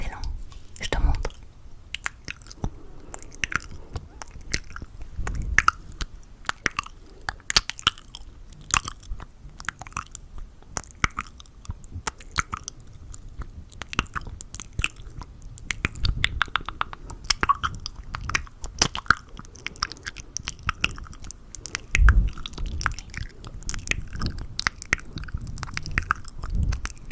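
Close, intimate ASMR mouth sounds from a dry mouth: dense wet clicks, smacks and soft pops in an irregular stream, with breathy whispering mixed in throughout.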